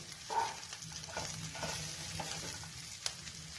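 Bread and raw peanuts fry together in a pan, making a quiet, even sizzle with soft stirring scrapes and one sharp tap near the end.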